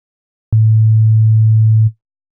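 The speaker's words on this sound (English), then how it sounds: "It's a sine wave" A pure, steady sine-wave sub oscillator from the Massive X synth holds one low sustained note for about a second and a half, starting and stopping abruptly, with nothing else sounding.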